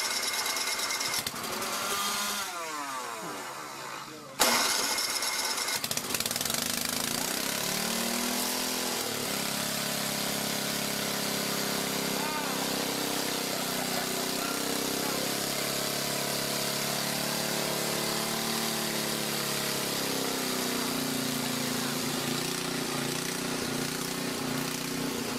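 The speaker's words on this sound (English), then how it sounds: "let's get the syngas rolling and the motor running" Small engine running on woodgas syngas and charging an alternator, a steady continuous drone after a brief startup, holding near and even throughout.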